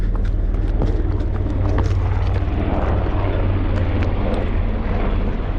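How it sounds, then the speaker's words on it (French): An army helicopter flies over the Verdon gorges, a steady loud low rotor and engine drone lasting throughout, with faint wind and outdoor noise on top. "Hélicoptère de l'armée."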